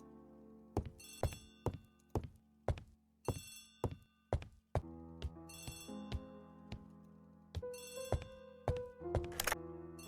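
Old-style telephone bell in an Agatha Christie ABC Murders mystery game, ringing in repeated bright bursts with dull thunks in between, followed by more layered ringing tones near the end.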